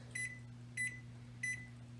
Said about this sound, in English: And I'm going to start my timer.